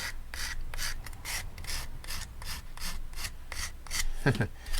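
A file rasps back and forth over the edge of a plastic part from an old-style Space Shuttle model kit, cutting a chamfer in a steady rhythm of about a dozen short, close strokes.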